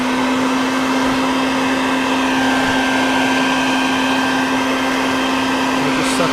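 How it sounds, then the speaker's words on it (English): A vacuum cleaner hums loudly and continuously close by while sucking up bees, with a strong steady motor tone and airy rush that stays unbroken throughout. "there's still some more I gotta vacuum up"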